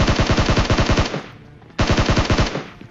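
Automatic rifle fire in PUBG Mobile: two loud, close bursts of rapid shots, about ten rounds each, separated by a short pause.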